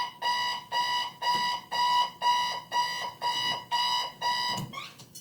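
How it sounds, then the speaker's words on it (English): An alarm beeps in a steady rhythm of about nine evenly spaced, loud, bright tones, then cuts off abruptly. "that's my alarm"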